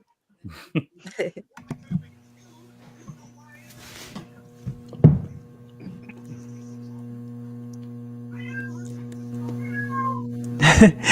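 A cat lets out several sharp, angry meows and cries in short bursts near the microphone, over a steady electrical hum, with one loud yowl at the end.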